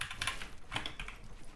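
Quick, close clacking of typing on an Apex Pro mechanical keyboard, with a flurry of crisp keystrokes in an uneven rhythm, fairly quiet and heard alone without talk.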